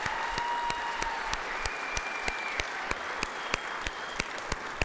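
An audience applauds at the 2026 AHL Hall of Fame class ceremony, with sustained clapping from a large crowd and a few sharper individual claps standing out above the steady wash.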